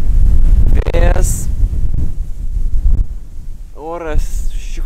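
Wind gusts buffet the microphone beside reeds on a riverbank under dark, rainy weather, making loud low rumbling throughout while someone speaks over it.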